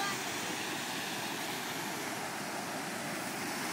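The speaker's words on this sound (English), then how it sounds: "This is the Carnarvon Falls." Cenarth Falls on the River Teifi in Wales, a steady broadband rush of falling water, fairly faint and continuous with no other sounds standing out.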